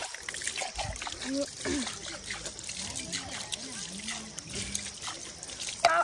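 Rain falls in a garden as a faint, steady patter and trickle of water, with people talking quietly through it.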